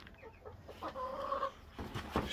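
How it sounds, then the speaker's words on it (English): Laying hens in a backyard flock of about thirty chickens cluck in short, scattered calls, with one clearer sustained squawk in the middle, heard fairly close with no talking over them. "I got like 30, I think 29 hens now"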